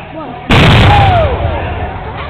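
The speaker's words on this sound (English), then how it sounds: "The cannon going off on video." A cannon fires at a Civil War reenactment at Fort Howard, one sudden loud boom that rolls off into a long fading rumble.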